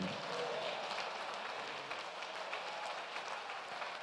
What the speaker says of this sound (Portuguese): aplauda o Senhor e concorde dizendo amém